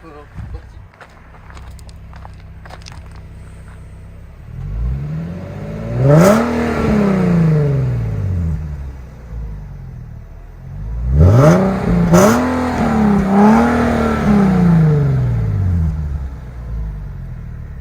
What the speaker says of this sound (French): C'est que le bruit du moteur et c'est tout.